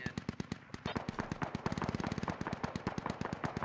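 Sustained automatic gunfire in the military shooter Squad, a fast, evenly spaced rattle of shots from a mid-distance weapon that continues unbroken for several seconds, with a faint voice briefly heard underneath.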